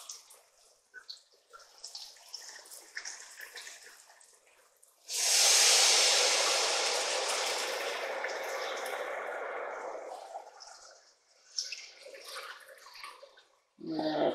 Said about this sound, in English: now, we're going to add in our wine, and we're going to add in roughly 3 cups